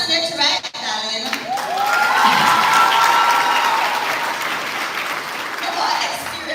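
Audience applause filling a hall at a school prize giving ceremony, a sustained dense patter of many hands that swells and holds steady, with voices calling out faintly underneath.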